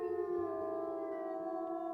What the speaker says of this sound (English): I believe Shooting Star has howl a lot like her father's